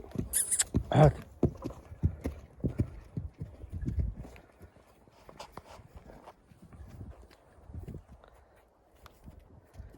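Vladimir draft horse hooves clip-clop on hard ground in an irregular walking rhythm, loudest at first and then quieter and scattered, with no one talking.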